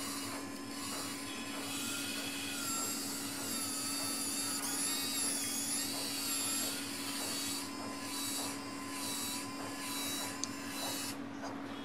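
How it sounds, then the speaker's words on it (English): The motor of a student-built braille embosser shifts the box. It makes a steady whirring mechanical drone with a constant hum and pitch sweeps, moderately loud and close, and briefly rises and falls in short bursts. "the motor will again shift the box"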